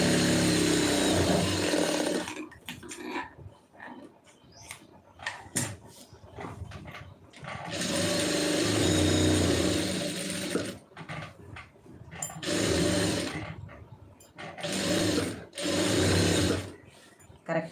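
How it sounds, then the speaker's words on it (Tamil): A sewing machine stitches a lining piece in several bursts, each a close, loud, even motor hum with rapid needle chatter, separated by pauses filled with handling noises and short restarts. "லைனிங் பீஸை கரெக்டாக உள்ளே தள்ளி தையல் போடுங்க."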